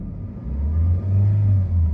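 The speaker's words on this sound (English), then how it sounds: "Just revving it right now." A car engine running after an engine repair formula has been added, revving in a steady low rumble that swells into a sustained higher-pitched rev, close and loud with no talk.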